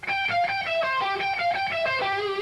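A clean guitar lick repeats a quick four-note sequence against a steady recurring low pedal tone, played alone at moderate volume.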